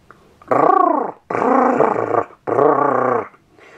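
A dog growls close up in three long, rough, harmonic bursts, each about a second long, separated by short pauses.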